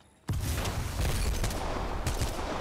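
Grenades going off in a mobile battle royale shooter: after a brief quiet start, a sharp loud blast erupts, then continuous rumbling booms and crackling gunfire-like bursts, with another punchy hit near the end.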